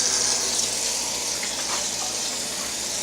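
Tap water runs steadily into a kitchen sink while a dish is washed, a continuous close gushing hiss with no talking.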